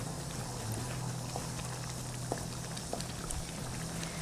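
Prawn biryani masala simmering in a pot, a steady low bubbling with occasional soft pops, fairly quiet and continuous without any talk.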